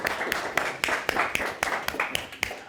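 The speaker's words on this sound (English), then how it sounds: "Wow, that deserves some applause" A small group of meeting attendees claps briefly, a sparse, uneven patter of individual hand claps at close range, moderately loud, with no crowd roar.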